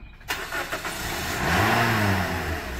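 A van with a dead battery tries to start, giving a few sharp clicks followed by a strained, rising whir from the engine, heard up close and without talk.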